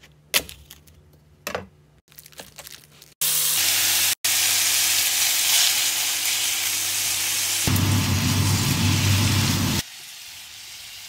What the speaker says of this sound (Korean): 소고기랑 야채를 꺼내서 볶았어요.